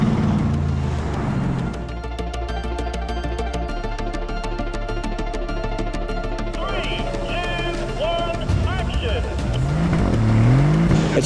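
Pre-war heritage Bentley cars drive past on a road, loud close engines revving and droning with gear changes and tyres on tarmac, while people talk over them.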